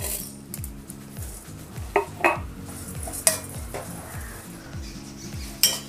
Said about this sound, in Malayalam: അപ്പോൾ നമുക്ക് ഒരു 3 ടേബിൾ സ്പൂൺ ഓട്സ് ഒന്ന് വറുത്തെടുക്കാം.